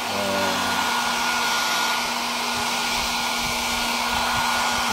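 A hot air blower runs steadily and close, drying a wet laminated circuit board from an Astron automatic washing machine with an E8 error, a continuous loud whooshing hum with no talk.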